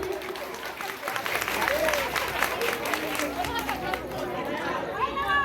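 An audience at a Baul folk song gathering for Jagaddhatri Puja applauds steadily while people chatter and a voice speaks over the clapping.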